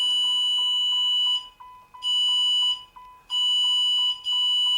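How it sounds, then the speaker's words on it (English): An automotive power probe beeps in rapid, regular electronic pulses, switching on and off in bursts with short silent gaps between them. "you can hear the power probe beeping on and off"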